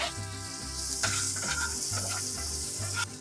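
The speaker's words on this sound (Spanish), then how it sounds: "Y aquí vamos a pasar a freír 2 dientes de ajo y 1/4 de cebolla." Two garlic cloves and a quarter onion fry in leftover bacon fat for spaghetti carbonara, a loud, steady sizzle up close with soft rhythmic stirring knocks in the pan.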